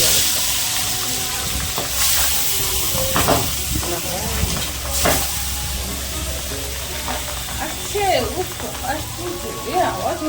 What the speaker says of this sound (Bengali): কেন এতটা ফাটছে আর এতটাই তেল ছিটকায় যে চোখে মুখে নাকে এসে পড়ে।